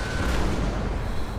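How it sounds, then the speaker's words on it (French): A 12-pounder cannon fires in the video game Napoleon: Total War, a loud, dense booming blast that rumbles on with no gap through the short stretch. "Le canon est prêt"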